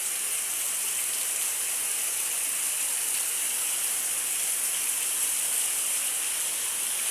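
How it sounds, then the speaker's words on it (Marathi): Heavy monsoon rain pours down in a village, a dense, unbroken hiss with no pauses, loud and close throughout. "इथे जोरदार पाऊस आहे"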